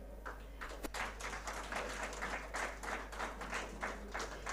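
An audience at the Ekamra Sports Literature Festival applauds an award recipient from Penguin Random House, a steady dense wash of clapping from a crowd, fairly distant and even, over a low hum.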